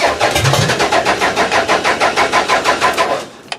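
A demolition derby car's engine cranks over in a loud, rapid rhythmic chug right up close and seems to catch briefly near the end, with no voices over it.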